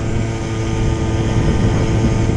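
A standard small motor pulled from a motor shop's stock, running loud and steady with a continuous droning engine roar under throttle, no talk over it.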